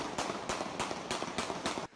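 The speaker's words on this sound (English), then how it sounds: "Gunshots." Six sharp, evenly spaced gunshots crack out on a busy city street in San Francisco in daytime, loud and close, each a broadband burst rising above steady street noise before cutting off near the end.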